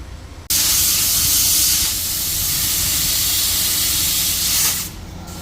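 Compressed air rushes into a repaired car tyre after a puncture fix: a loud, close, continuous hiss that starts abruptly, holds steady for about four seconds, then cuts off.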